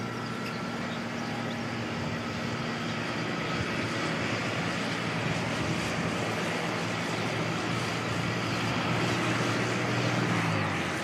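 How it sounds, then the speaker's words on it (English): Brake fans on a Jetstar Airbus A320 keep up a steady, broad whirring roar at Christchurch Airport in wet, windy weather, constant in level throughout with no talk. "the brake fans on the Jetstar 320 still in the background"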